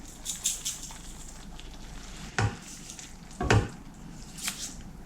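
A spoon stirs tomato paste with two bay leaves, salt, pepper and sugar in a pan. A few distinct scraping strokes, two of them louder, rise over a soft, steady sizzle close by.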